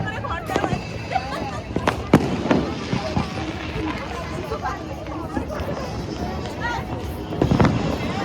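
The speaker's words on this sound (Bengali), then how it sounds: "সব বাজি ফাটছে" Fireworks and firecrackers burst at a midnight New Year celebration, with sharp scattered bangs and crackles through a steady din of crowd chatter, some blasts loud and close, others farther off.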